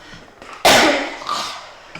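A single loud, harsh cough bursts out after a quiet stretch, followed by a fainter second cough or throat noise, heard close up over a faint game soundtrack from Star Wars Battlefront 2.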